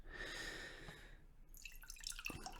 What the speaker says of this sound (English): They told me you don't talk much, so I'm just gonna pour myself a cup